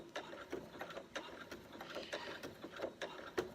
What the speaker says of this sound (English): it's going to start to sew right on the edge now